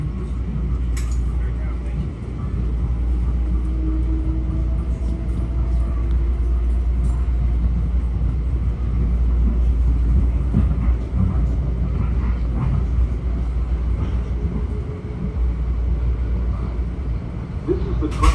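An MTA Metro-North M7A electric commuter train runs on the Hudson Line between Yonkers and Irvington, heard from inside as a steady low rumble and hum of the moving car, with faint rattles and occasional knocks throughout.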